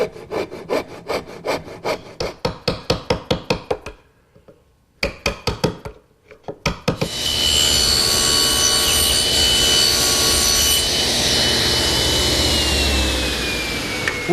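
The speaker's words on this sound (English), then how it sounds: "make a couple saw cuts down to my layout lines" A hand saw cuts a clamped walnut rail held in a side vise, its close, steady back-and-forth strokes in short runs. A dense, continuous rushing noise then takes over and holds to the end.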